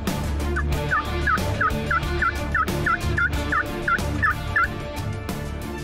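A wild turkey gobbles from its roost on a mountainside in spring, about a dozen quick, rattling calls in a regular rhythm, loud and clear over a faint background hum.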